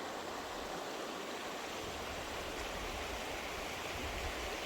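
Little River, a stream in Little River Canyon WMA, rushes in a steady broadband wash of flowing water that holds the same level from start to finish, close by with no voices.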